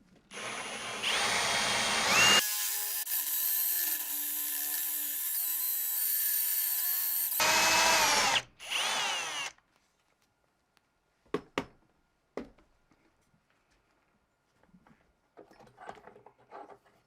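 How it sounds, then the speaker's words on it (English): A power drill boring into catlinite stone whines loudly and steadily for several seconds, stops, bursts briefly again, then gives way to scattered clicks and handling noises. "So I'm going to mark the drill bit so I don't get carried away."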